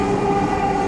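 A Dhaka Metro Rail train runs toward Uttara, a loud, close, steady rumble with a sustained mechanical whine heard from inside the carriage.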